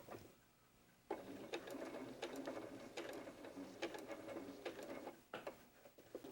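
A sewing machine stitches fabric around a curve in short bursts of rapid mechanical whirring and needle clatter, broken by brief pauses as the fabric is pivoted, close and clear, with no talking.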